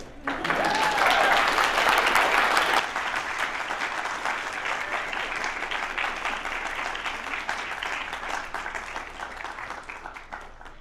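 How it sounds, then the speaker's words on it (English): Seminar audience applause after a university tenure talk, a burst of many hands clapping that is loudest at first and then settles into a steadier, slightly softer patter that carries on to the end. "just applaud me and then leave"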